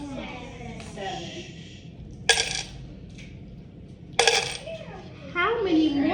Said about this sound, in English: How many more pennies did I drop?